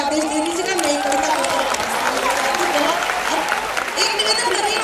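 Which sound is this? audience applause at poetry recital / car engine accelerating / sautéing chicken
audience applause at poetry recital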